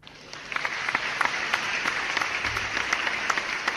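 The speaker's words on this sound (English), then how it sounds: "So an applause for you" Applause during a live online Q&A hang-out, a brisk patter of clapping with distinct sharp claps standing out over a continuous hiss, moderately loud and unbroken by speech.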